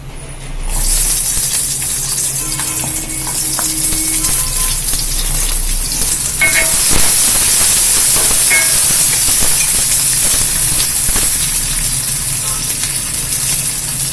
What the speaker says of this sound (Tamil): எண்ணெய் ஊத்திப்பா அந்த வெங்காயத்தை நம்ம வதக்கலாம்.